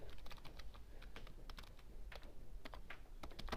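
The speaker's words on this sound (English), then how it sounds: "I'll just go through and I type my data in" Quiet, irregular clicking of computer keys as data is typed into a database form, in short bursts and single taps with small pauses, close and soft, with no talking.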